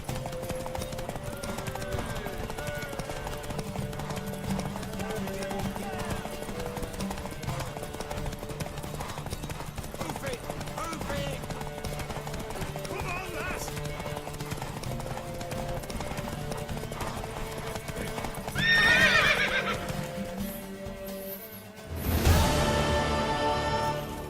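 Steady hoofbeats of a galloping horse run throughout over The Witcher 3's ambient sound, with a brief whinny and a sharp burst near the end.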